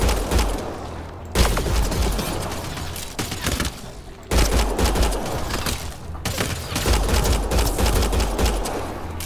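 Rapid bursts of automatic gunfire in Mass Effect Andromeda, loud and close, coming in dense volleys broken by two brief pauses.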